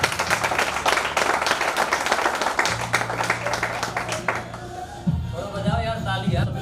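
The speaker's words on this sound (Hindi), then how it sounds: "थोड़ा बजाओ यार ताली यार" An audience at a celebration event in Moradabad claps in dense, sustained applause that fades out after about five seconds, followed by a voice speaking over the room.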